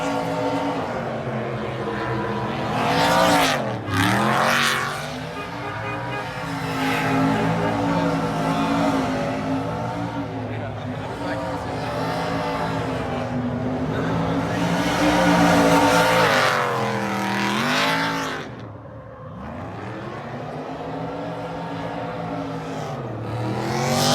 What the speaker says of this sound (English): Got these guys drifting.